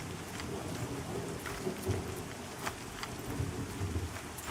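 Steady rain hisses in the video game Pantheon: Rise of the Fallen, with low rumbles of thunder rolling underneath and occasional sharper drops, a continuous, moderately loud ambience with no talk.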